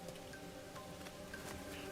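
Steady rain falls throughout in the video game Master Detective Archives: Raincode, a dense continuous hiss with faint scattered drop-like ticks, constant and even with no talk.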